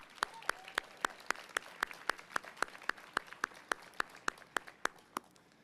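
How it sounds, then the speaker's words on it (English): Audience applause in a hall for a city police chief and his department at a State of the City address, heard as a fairly quiet, steady series of evenly spaced claps, sparse rather than a full roar. "accept applause for you and also for the entire department"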